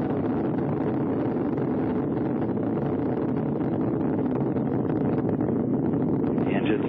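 Space Shuttle Atlantis's three main engines, throttled down during launch, produce a continuous, dense, broadband roar that stays steady and loud throughout, without any break.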